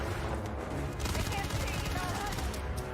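Rapid, loud gunfire from an Xbox Showcase video game trailer, dense bursts and booms packed over a heavy soundtrack throughout, with a voice faintly mixed in.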